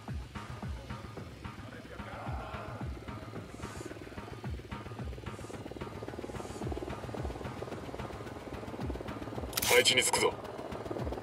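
A helicopter in the video game Ghost Recon Wildlands, a low rhythmic rotor thump running steadily in the background beneath game sounds and a spoken voice line.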